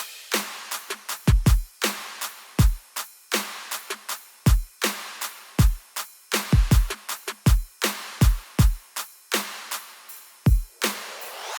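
A future bass drum pattern programmed in FL Studio, with sharp snares and claps, ride hits and a crash, plus deep kick thumps landing in a steady syncopated groove, loud and alone.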